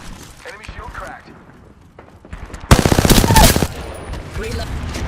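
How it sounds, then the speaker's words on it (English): Loud, rapid automatic gunfire in Apex Legends, a dense burst of close shots that cuts off abruptly, following scattered quieter game sounds and talk. "Shots fired."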